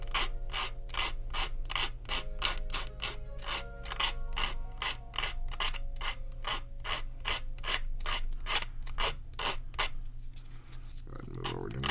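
A plastic model kit part, a Polar Lights 1:1000 USS Defiant piece, is rubbed on sandpaper to remove flash, giving a steady run of close, rhythmic rasping strokes that slow and stop near the end.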